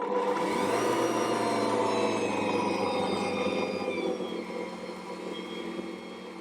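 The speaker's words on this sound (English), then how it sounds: "I'm going to mix that into a shaggy dough" An Ankarsrum stand mixer works bread dough into a shaggy mass, a loud continuous motor whine that settles slightly lower and softer partway through, with no speech.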